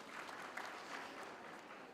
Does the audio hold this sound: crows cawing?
no